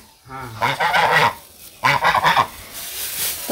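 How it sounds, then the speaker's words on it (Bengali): Two loud bursts of nasal honking from ducks close by, separated by a short pause, with faint background hiss. "হাঁসের আবার খিদা লাগছে"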